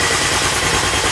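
An air compressor kicks on in a machine shop where a carriage stop clamp is being drilled and milled, giving a loud, steady motor roar with a low, rapid pulsing throughout.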